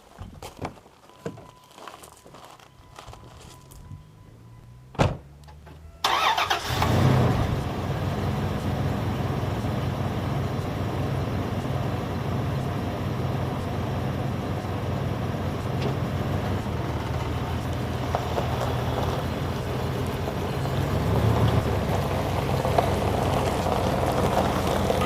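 A vehicle pulling a hooked-up trailer on a homestead starts with a thump, then a steady engine rumble and rolling road noise continue for about twenty seconds, fairly loud and close.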